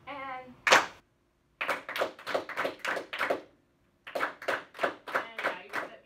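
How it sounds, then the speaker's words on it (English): Beginner band students clap a rhythm together, a short phrase of sharp, evenly spaced claps, a pause, then a second matching phrase; a voice counts them in just before. "Let's clap your rhythm, okay?"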